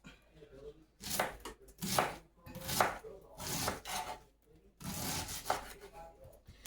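A knife chops through cabbage on a cutting board in about nine crisp, rhythmic strokes, each a sharp crunching thud. The chopping is close and moderately loud, with a short pause partway through.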